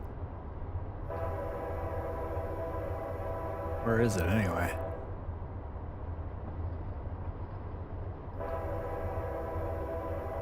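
A train horn blasts in several long sustained tones, loud and close from inside the cab as the engine runs up a valley at a grade crossing, with a voice speaking briefly between the blasts.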